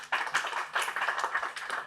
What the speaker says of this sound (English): I want the audience to clap for you.